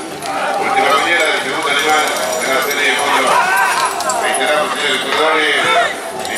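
Racehorses gallop in a provincial colt series at Club San Bernardo, hoofbeats blurred beneath a continuous, loud race commentary and crowd noise.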